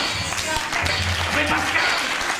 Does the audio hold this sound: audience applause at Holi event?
yes